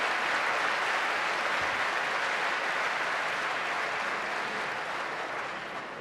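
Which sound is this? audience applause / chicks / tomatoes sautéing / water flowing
audience applause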